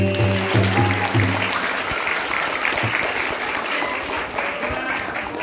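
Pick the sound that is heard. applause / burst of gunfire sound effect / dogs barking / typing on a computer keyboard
applause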